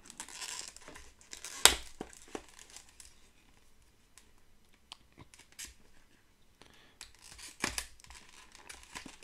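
Tape is torn off in short ripping bursts with crinkling and rustling in between, close by and fairly quiet overall.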